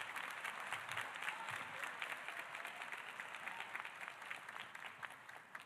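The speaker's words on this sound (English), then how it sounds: "Ladies and gentlemen, please give them all a round of applause." Audience applause at a high school graduation ceremony honoring faculty and staff, steady dense clapping from a large crowd, fairly distant and faint, continuing throughout.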